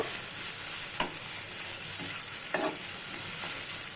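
Chopped onion, ginger paste, garlic paste, green chili and salt frying in a little oil with butter, a constant steady sizzle with a few soft stirring scrapes, no one speaking.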